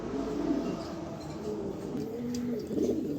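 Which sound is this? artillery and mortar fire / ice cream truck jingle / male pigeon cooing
male pigeon cooing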